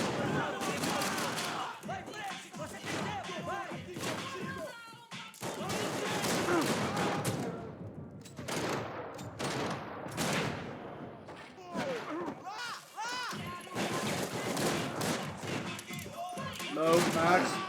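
Gunfire in the shooter Max Payne 3: dense, sustained volleys of shots and bursts crack out almost continuously at close range, layered with impacts and crashes, while someone talks over them.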